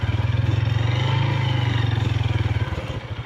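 A motorcycle engine chugs loudly at close range while riding over a rough, stony unpaved road, its low rhythmic thrum steady, then easing and turning uneven toward the end, with no talk.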